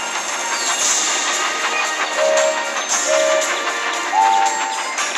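A toy train engine rolls along in a Thomas and Friends mobile game, with clattering rail noise under bright game chimes and short tonal blips at a fairly even level.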